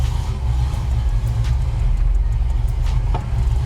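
A 1966 Ford Mustang with a built 302 engine and top loader transmission pulling away in first gear: a loud, steady low rumble from inside the car, with no talk over it.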